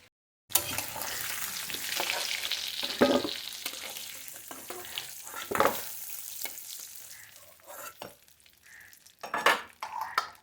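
Papaya pieces frying in oil in a pan, a steady sizzle with repeated scraping and clinking stirs of a utensil against the pan, loud and close with no talk.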